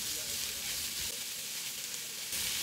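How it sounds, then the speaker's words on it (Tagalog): Marinated beef strips for garlic and pepper beef sauté in a pan over high heat, a loud, steady, close sizzle that fills the whole stretch. "Ilagay na natin yung marinated na beef. Strip ang slice niya. Saute lang natin."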